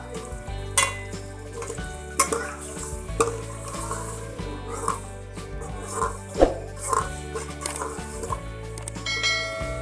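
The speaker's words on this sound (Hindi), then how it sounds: "इसको फ्राई करेंगे" Steady frying sizzle of ginger-garlic paste and green chilli in a pot, with occasional stirring clinks and scrapes of a utensil against metal, close and continuous throughout.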